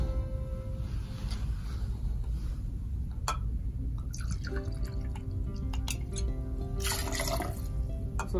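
Lime juice is poured while margarita-style cocktails with tequila are mixed. Quiet liquid pours and drips come near the mic in short bursts, with clinks of glass and bottle, and no one speaks.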